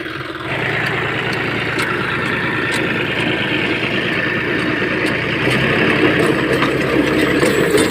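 A tractor engine idles steadily and close by after the lifter is run to bleed air from the fuel line, a continuous mid-low rumble with a slight rise in level toward the end.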